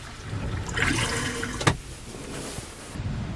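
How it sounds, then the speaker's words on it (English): An RV toilet flushes into the black water tank with a rushing gush of water, followed by steady running and filling sounds, close by with no talking. "make sure we flush it to send it to the black water tank."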